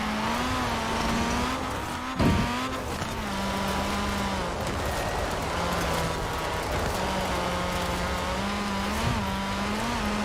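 A 1990 Nissan Pulsar GTI-R driven in Forza Horizon 4 holds a steady engine drone throughout, its pitch rising and dipping with throttle and shifts, with a brief thump near two seconds and a sustained close, fairly loud tone.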